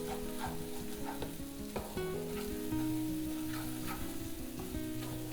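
Egg bhurji with butter, coriander and garam masala is stirred in a hot pan, with a continuous sizzle and scraping strokes under a steady tonal hum.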